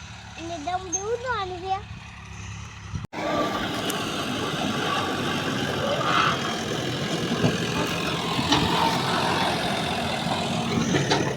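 A voice speaks briefly, then a tractor engine's steady rumble takes over and grows slightly louder as it draws closer.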